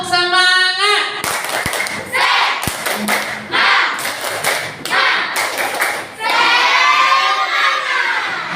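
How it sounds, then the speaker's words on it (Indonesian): Children in a primary-school class clap in several rapid bursts, with shouts and cheers between them and a teacher's voice at the start, the whole room loud and close in an indoor lesson about magnets. "tepuk tangan untuk kelompok dari Thailand"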